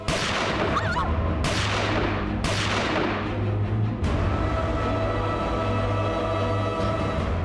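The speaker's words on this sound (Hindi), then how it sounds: "राहुल ने दादी को गोली मार दी" In a crime drama, a few sharp, booming shots ring out at irregular intervals over a constant rumbling background.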